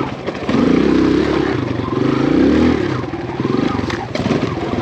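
A lightweight full-sized-wheel 4-stroke dirt bike climbs over rough terrain, its engine surging and dropping in repeated throttle bursts close by, mixed with clattering and scraping from the ground.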